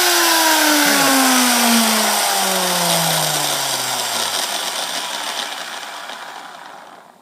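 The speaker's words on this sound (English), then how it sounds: "Kind of has the spur gear noise to it" A cheap Harbor Freight machine driving a crude lathe for Corian, with spur gear whine, is switched off. Its loud mechanical drone and gear whine slide steadily down in pitch and fade as it spins down, with no talking.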